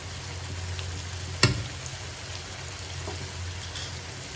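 Chicken masala with coriander powder stirred in a pan over a low, steady sizzle, with one sharp clink of the spoon against the pan partway through.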